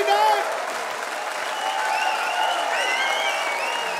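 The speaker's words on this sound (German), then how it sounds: "das ist, dein Applaus, Marvin Spencer" An audience at the Hamburger Comedy Pokal comedy competition applauds a stand-up comedian, a dense, steady clapping with some cheers that carries on for several seconds.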